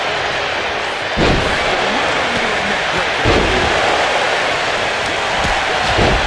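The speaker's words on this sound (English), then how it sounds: "Listen to this crowd." A wrestling arena crowd at a WWE Survivor Series match, a loud, steady roar of many voices with occasional heavy thuds.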